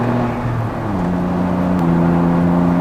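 A Smart Roadster Brabus Coupé with a turbocharged engine accelerates, its steady engine drone stepping up through rising tones, heard from inside the car at a constant loud level.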